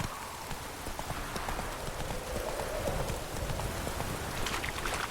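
Horse hooves clip-clop steadily in The Witcher 3 as the mount trots along, a continuous rhythmic patter layered over soft rain-like game ambience.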